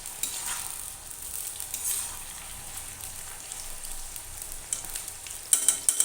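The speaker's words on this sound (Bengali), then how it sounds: "এগুলো ভাজা ভাজা হতে থাক" Potato chips frying in a pan of oil for a fasting-day meal, a steady close hiss and crackle with soft stirring scrapes and a few sharper pops near the end.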